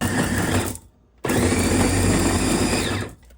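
An electric chopper whirs loudly as it minces chili peppers, running in two bursts broken by a short pause before it stops.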